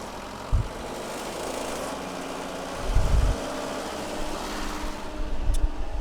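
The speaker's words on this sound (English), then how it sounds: "So I'll just turn the speed up a little bit on the engine." Engine on a Stepp 20-120 unit running steadily with a low mechanical drone and fan-like hiss, a few thumps as the speed is turned up, no talk.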